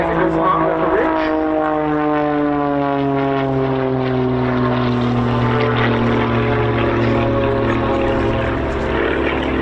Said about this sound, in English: In fact, a Lycoming IO 540 engine.